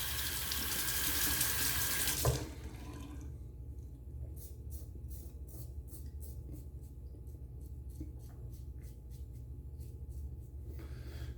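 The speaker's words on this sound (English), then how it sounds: "Let's rinse this off." Tap water runs loudly into a sink while soap is rinsed, then cuts off abruptly, leaving a quiet room with faint background hum.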